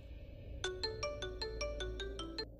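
A mobile phone ringtone sounds for an incoming call, a bright repeating melodic pattern of about ten evenly spaced tones, moderately loud over a low background hum, with no talk.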